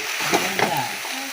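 Curry sizzles and fries in a pan as it is stirred, with a steady crackle broken by a few soft scraping knocks.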